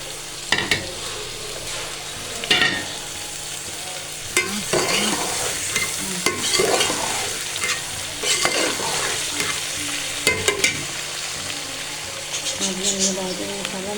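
Onions, tomatoes and okra sizzle steadily in a hot pan while a spoon stirs and scrapes through them, the frying hiss constant with occasional louder knocks.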